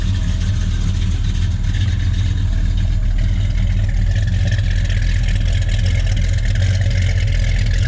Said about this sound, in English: So the cam sounds really nice when you come to the back of the car.